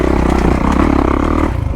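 A dirt bike engine revs hard and close on a trail hill climb, a loud, steady, buzzing drone with a slight waver throughout and no talking.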